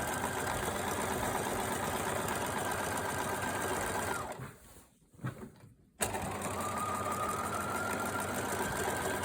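A sewing machine stitches a curved skirt pocket seam in a fast, continuous whirring run that breaks off for about two seconds with some soft handling noises, then starts up again.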